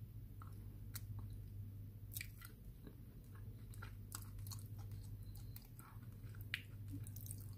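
Close, intimate chewing of wakame seaweed and cod roe: steady wet squishes, soft bites and occasional light crunches repeat throughout, quiet and alone without talk.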